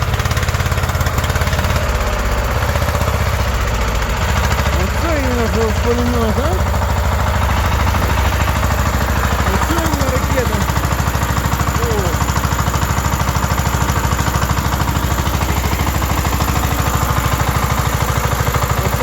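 A tractor engine runs loudly and steadily throughout, its rumble continuous while people talk over it.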